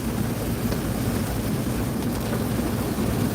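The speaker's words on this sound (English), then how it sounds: "Pouring down rain." Heavy pouring rain drums steadily and loudly on a vehicle on a morning drive, a dense unbroken roar throughout with no talk.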